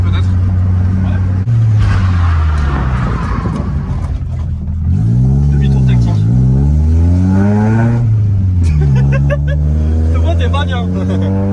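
A Volkswagen Golf 2 engine revs hard on a winding road with a hairpin, pitch climbing and dropping through several loud, close sweeps as the car accelerates and shifts, with people talking inside the car over it.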